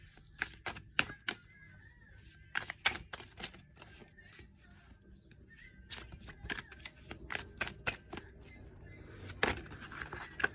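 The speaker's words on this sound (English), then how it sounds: "We'll just go ahead and shuffle and see what we get." Oracle cards are shuffled by hand close up, a run of crisp riffling and flicking bursts in irregular clusters, with short quiet gaps between the handfuls.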